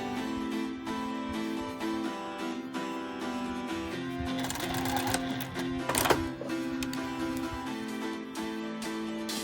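A domestic sewing machine runs in short bursts and longer stretches while stitching around a log cabin patchwork multi-cover, its rapid mechanical chatter moderately quiet and close, with no talk.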